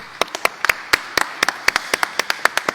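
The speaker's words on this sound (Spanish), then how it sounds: "Un aplauso, por favor, para nuestros panelistas." Conference attendees applaud a panel of speakers with sparse, distinct claps from a small group. About twenty sharp, separate hand claps come in an uneven rhythm, close and clear against a quiet room.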